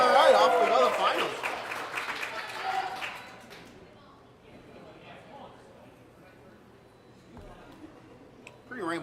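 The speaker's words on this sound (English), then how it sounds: "Pretty rambunctious crowd here." A bowling-alley crowd claps and cheers at the start of an afternoon's junior and adult league title finals, a loud burst in the first few seconds that fades to faint scattered noise under a room hum.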